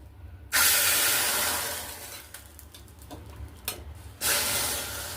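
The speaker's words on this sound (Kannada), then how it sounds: "ಸ್ವಲ್ಪ ಒಗ್ಗರಣೆ ಹಾಕ್ಕೊಳ್ತೀನಿ." A loud burst of sizzling as hot tempering hits boiling sprouted horse gram saaru, fading into a hiss, then a second sharp sizzle flares up near the end.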